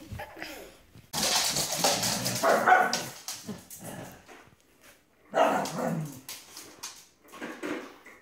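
Puppies yip and whimper in short, high bursts with quiet gaps between, fairly close and moderately loud.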